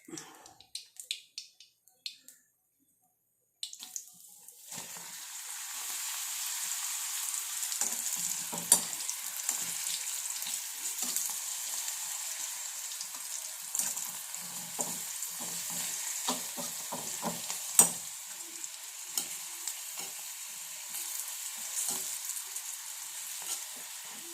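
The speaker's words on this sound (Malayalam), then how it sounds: "ഇതിലേക്ക് ഈ കമ്പിയും കൊണ്ട് ഇങ്ങനെ ഇങ്ങനെ മാറ്റി മാറ്റി ഇട്ട് കൊടുത്ത് അങ്ങനെ വറുത്ത് വറുത്തെടുത്താൽ മതി" Papadam frying in hot oil while being turned with a metal skewer: steady close sizzling and bubbling from about five seconds on, with small clicks and taps of the skewer, after a brief quiet start.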